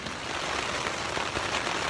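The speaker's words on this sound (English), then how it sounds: "It is pouring rain. It's lightning and thundering." Heavy rain pouring on a tent during a 3 a.m. thunderstorm at a campground in Hoosier National Forest: a dense, constant hiss of drops hitting the fabric, steady and close, with no voices.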